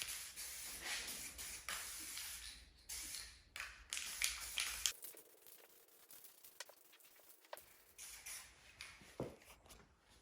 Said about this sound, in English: I'm gonna paint the frame right now.